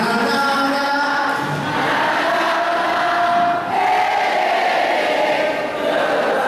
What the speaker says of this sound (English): Big applause, everybody. Big applause.